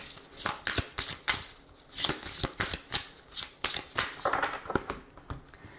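A deck of Power of Love oracle cards by Julia Sarik being shuffled by hand: a close, crisp run of repeated papery riffles and slaps in an uneven rhythm, with no talking.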